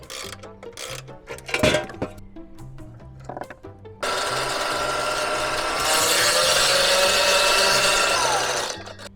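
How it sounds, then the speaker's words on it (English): Blades of a California Trimmer reel mower are sharpened, starting with scattered scraping and clanks over background music, then giving way to a loud, continuous grinding rasp of a power tool on metal that holds steady for several seconds. "I'm going to show you how to sharpen the blades on a California trimmer"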